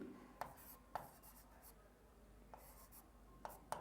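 Marker or chalk strokes tap and scratch as a word is written on a classroom board, quiet and close, with a handful of sharp ticks spaced irregularly over a faint hum.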